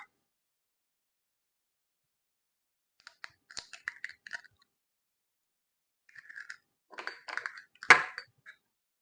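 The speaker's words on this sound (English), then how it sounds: "I'm going to crack my egg" An egg is cracked while making oatmeal pancakes: scattered light taps and clicks build to one sharp, close crack near the end, with silence around them and no voices.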